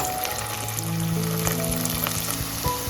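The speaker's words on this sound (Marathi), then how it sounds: "आपले बटाटो जे आहेत ना ते तेलामध्ये सोडले आहेत छान प्रकारे फ्राय होतात" Potato pieces deep-frying in hot oil for dum aloo, a dense continuous crackling sizzle with bubbling, close and steady, no voices.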